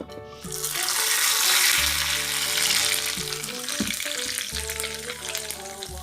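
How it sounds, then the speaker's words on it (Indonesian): Hot oil poured over sambal padang being made alongside rendang gives a loud, dense sizzle that swells in the first seconds and then settles into steady crackling frying noise, with no talk. "Kemudian beri minyak panas guys."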